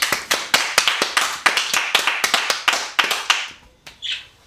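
A few people clap in a steady run of sharp, evenly spaced handclaps, loud and close with little talk, fading out before a faint bird chirp at the end.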